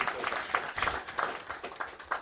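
A small audience at a post-fight press conference after a mixed martial arts event gives a short burst of applause, the claps loose and uneven, fairly close, with faint crowd murmur.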